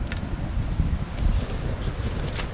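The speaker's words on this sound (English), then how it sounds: "Wow, it's windy out there." Steady wind buffets the microphone outdoors beside a camp cook kit at a rolling boil, with low, rumbling gusts throughout, loud and close, with no other clear sounds.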